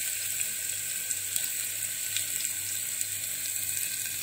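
Cumin seeds and finely chopped ginger sizzle steadily in hot oil over a low gas flame, a constant close crackling hiss with small pops and no talking.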